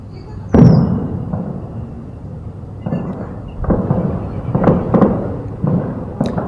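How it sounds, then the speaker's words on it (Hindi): Gunfire during a security forces encounter with militants in Sidhra, Jammu: scattered sharp bangs and pops ring out at a distance over a rumbling, noisy background, irregularly spaced like intermittent shots. "गोलाबारी के, गोलियों के,"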